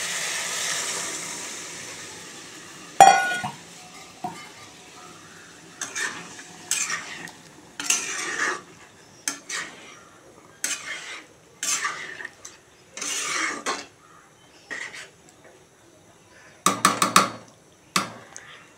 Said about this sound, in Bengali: সেদ্ধ করা রাজমাটা দিয়ে দিচ্ছি।